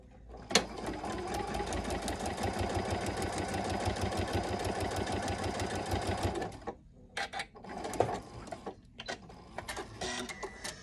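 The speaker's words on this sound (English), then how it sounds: "I'm going to sew right on that line" A sewing machine stitches a quilt block for a shop hop pattern: a dense, steady run of rapid stitching for about six seconds, then a few short stop-start bursts, close and fairly loud with no talking.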